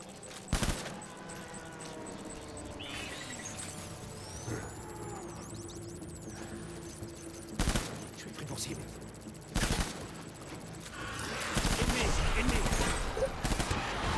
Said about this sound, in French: c'est un fusil d'assaut qui fait des grenades pneumatiques et des balles létales